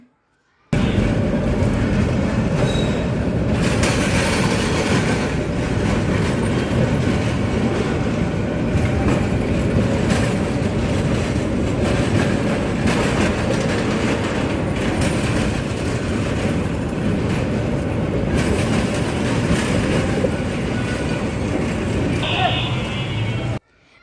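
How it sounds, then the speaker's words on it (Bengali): Train passing on railway tracks beside a road, a loud continuous rumble and rattle of wagons lasting nearly the whole time, close by, with a brief horn or buzzer near the end and faint voices underneath. "এখানে ট্রেন যাচ্ছে সেটারই একটু ভিডিও করে নিলাম আপনাদের জন্যে"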